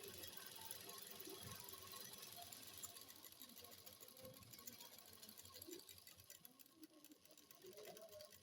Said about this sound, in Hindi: हम भी यहाँ भी एक ही पैर की सिलाई लेते हुए चलेंगे।